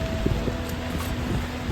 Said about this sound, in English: As I said, it's raining.